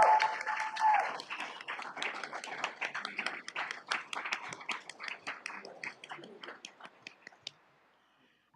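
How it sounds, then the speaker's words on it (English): An audience at a student leadership and achievement awards ceremony claps for the award winners, a dense burst of hand claps that thins into scattered individual claps and dies away. "give one more round of applause to all of our award winners"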